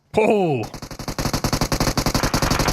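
Rapid repeated gunshots in a competitive PUBG match, a loud burst of evenly spaced blasts following a brief sweeping game tone at the start.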